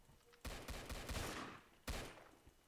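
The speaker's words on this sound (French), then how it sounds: "Commence à avoir des tirs de partout." Video game gunfire coming from all sides: two dense volleys of overlapping shots, the first a longer rattling burst and the second a brief crack, fairly faint and alone.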